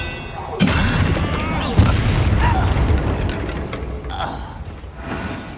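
Expelliarmus cast in the Hogwarts Legacy video game, a sudden magical burst with booming impacts and a shattering crackle, followed by further whooshes and pops in the ongoing fight.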